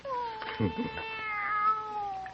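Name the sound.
cat meowing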